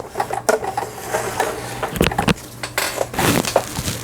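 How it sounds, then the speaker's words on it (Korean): Home sewing machine, a Lion Diana domestic model, stitching fabric: a steady low motor hum under rapid mechanical needle clatter, close and fairly loud, with a few sharper knocks and no talking. "이게 정상적으로 이제 박음질을 되고 있습니다"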